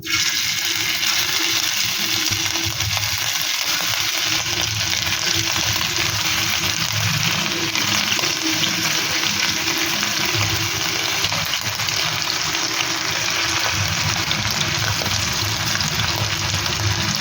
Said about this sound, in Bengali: তেল আমার গরম হয়ে এসেছে। এবার আমি চিকেনের টুকরোগুলো এক এক করে দিয়ে দেব।